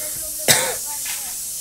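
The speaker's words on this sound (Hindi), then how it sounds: "मेरे को खांसी ऐसी आ रही है आज" A single sharp cough bursts out near the mic, brief and breathy, followed by a short faint trailing sound in a quiet room.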